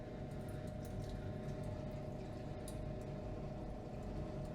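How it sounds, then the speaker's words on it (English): A solution poured back into a beaker with ice during home refining of gold, giving a continuous low liquid rush and gurgle, close and steady for the whole stretch, with no voices. "now what we're going to do is pour our solution back into this beaker"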